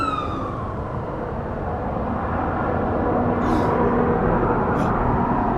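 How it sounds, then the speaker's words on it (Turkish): An ambulance siren in the video game Hello Neighbor, Fredbear mod, arriving at a crash scene: a loud wail falls in pitch at the start, then fades into a heavy, steady rumble of noise. "Ambulans geliyor."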